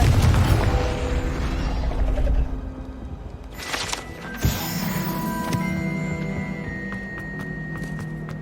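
A Confringo fire spell bursts in Hogwarts Legacy with a sharp booming crack midway, followed by ringing magical tones and a low rumbling tail.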